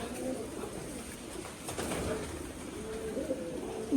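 A male pigeon coos softly, repeating low throaty calls close by against a faint background, with no one speaking.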